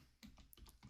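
Several quick, faint keystrokes tap out on a computer keyboard in an uneven rhythm, close and quiet with no talk.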